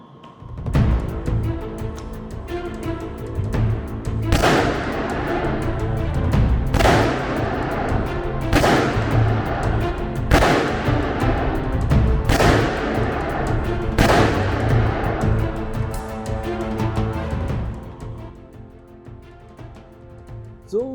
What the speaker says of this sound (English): So let's look at a demonstration of shooting from the kneeling position to better see what I'm talking about.